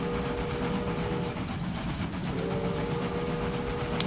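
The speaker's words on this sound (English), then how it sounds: "You can hear the train working." A train running in the railway video game Railway Empire gives a steady, loud rumble with a sustained mechanical hum and a faint rising-falling whistle-like tone partway through, with no talking.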